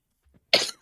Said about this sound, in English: Where has this cough come from?